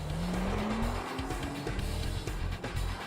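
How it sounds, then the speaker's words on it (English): A car brakes hard at speed on a test lap, tires squealing in a rising tonal skid over a loud engine and road roar, close and continuous. "drive very fast, then hard on the brakes 20 times over 5 laps"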